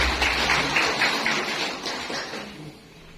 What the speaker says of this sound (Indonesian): Tepuk tangan ini.